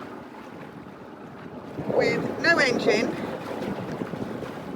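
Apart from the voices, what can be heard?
wind blowing on a sailboat at sea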